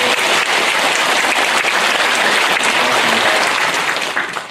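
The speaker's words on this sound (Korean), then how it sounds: "박수 한 번 부탁드려요." Dense, loud applause fills a hall at a Korean rally for truth and justice in settling the past, honouring the lawmakers present. It holds steady before tapering off at the very end.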